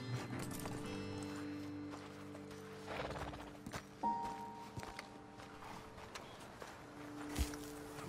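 Horses in the Red Dead Redemption 2 video game give repeated clip-clop hoofbeats and a whinny, fairly quiet, over steady sustained musical tones with no talking.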